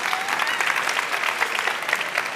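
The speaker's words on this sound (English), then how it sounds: "Please give him a warm round of applause" A conference audience applauds a panel speaker at a sustainability session, steady dense clapping sustained throughout at moderate distance, with no talk over it.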